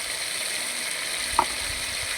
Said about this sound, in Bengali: দিয়ে মশলাটা ভালো করে কষিয়ে নিতে হবে।